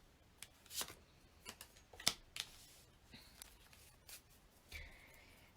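Tarot cards being shuffled and pulled from the deck, soft quick riffles and flicks in scattered bursts, close and quiet with no speech.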